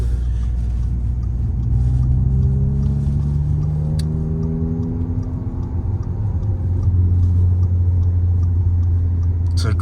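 Inside the cabin of an Audi S3 with a 2-litre, 300 hp engine, a loud low engine rumble drones steadily, with rising and falling revs as the car accelerates and voices talk in the cabin.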